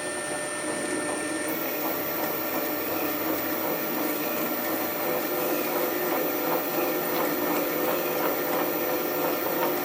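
A lathe cuts a thread on a part for a 1933 Sunbeam Model 8 350cc motorcycle engine, giving a steady, close mechanical whir with a dense scraping hiss that runs unbroken from start to finish, with no voices.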